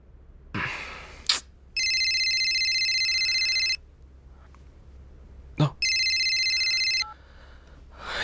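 A telephone rings in two long electronic bursts separated by a pause, with brief rustling and a sharp breath between rings in a quiet room, in a scene from the Telugu film Racha.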